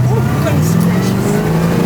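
A Pontiac engine with a 4-speed gearbox revs loud and close in low gear, with a sustained, rising engine note throughout.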